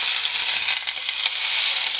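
Chopped steak fries in a warm pan with a steady, close, dense sizzle that holds evenly throughout, no voices present.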